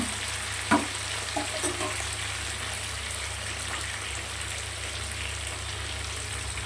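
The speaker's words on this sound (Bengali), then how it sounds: "এখানে দেখো টমেটো আর ক্যাপসিকাম দেওয়া আছে। একটু লাল লাল করে ভেজে নেব।" Tomato and capsicum fry in a pan with a steady, soft sizzle, broken by a few sharp scrapes and clacks of a stirring spoon early on, with no one speaking.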